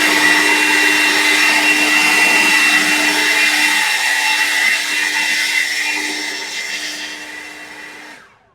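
A Seesii 40V cordless leaf blower runs with a loud, steady whirring whine, then spins down and fades to silence near the end.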